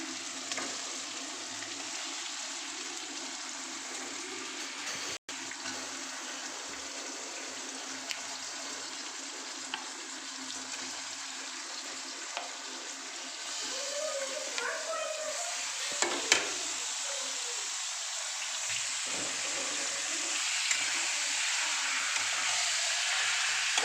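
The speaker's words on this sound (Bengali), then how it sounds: "এবার আমি একে একে চিকেনগুলো দিয়ে দেবো।" Chicken pieces dropped into hot, fried-down spice paste hiss with a steady, close sizzle, a bright crackling wash that holds for the whole stretch and swells slightly toward the end, with a few faint clinks.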